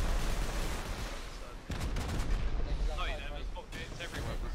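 A rocket launcher fires during a raid in Rust, two heavy booming blasts a couple of seconds apart over a dense rumbling battle din, with a voice speaking between them.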